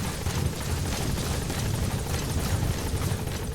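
Helicopter in the Metal Gear Solid 5: The Phantom Pain video game, a steady, loud rotor and engine drone with low thumping that holds throughout, with no talk.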